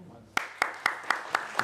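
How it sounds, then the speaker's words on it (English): Six sharp, evenly spaced claps ring out in a slow rhythm at a Lenten retreat, each crisp and distinct with brief reverberation between them, over a quiet room. "Let's give applause again."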